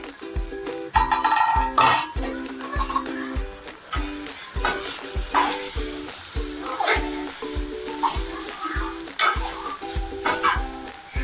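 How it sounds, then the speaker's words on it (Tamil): Bottle gourd pieces for chutney sauté in a pan with a soft, continuous sizzle, punctuated by frequent rhythmic scrapes and taps of a spoon turning them over. "ஒரு ரெண்டு மூணு நிமிஷத்துக்கு நல்லா காய் வேகட்டும்"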